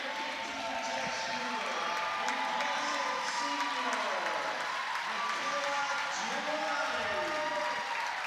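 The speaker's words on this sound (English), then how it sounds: "As Giuliani comes out of the game, the crowd erupts" A crowd at a high school girls basketball game applauds and cheers as a senior player leaves the floor, steady clapping and murmur under an announcer's voice that talks throughout.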